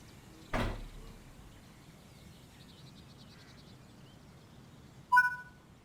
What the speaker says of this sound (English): Open the passenger doors to allow boarding.